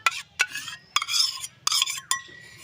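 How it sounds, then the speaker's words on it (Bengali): A spoon mixes semolina, sour yogurt and salt in a bowl, making a series of close, rhythmic scraping strokes punctuated by sharp clinks against the bowl. "টক দই আর সুজি আর লবণ দিয়ে একটু মিশিয়ে নেব।"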